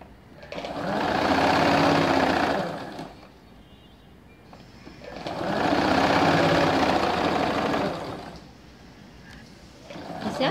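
Two close, steady runs of a sewing machine stitching along the waistband edge of ladies' pants, each lasting a few seconds, with a softer pause between them.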